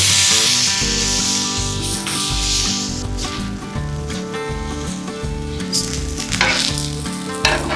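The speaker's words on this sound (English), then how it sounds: "We've got these grilled with a little olive oil and grill them till they're soft." Eggplant slices sizzle and fry steadily on a grill with olive oil, a loud, continuous crackling hiss close by, with scraping and rubbing sounds as the slices are moved.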